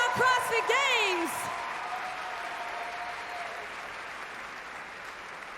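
A crowd at the 2019 Rogue Invitational CrossFit event applauds in a broad, steady wash that fades slowly. A voice speaks over the first second.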